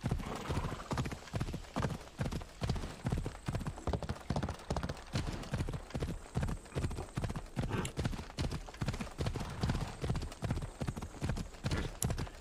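Horse hooves clip-clop steadily during a ride in the Assassin's Creed Odyssey video game, an even, rapid rhythm of close, moderately loud beats that runs without a break over faint background ambience.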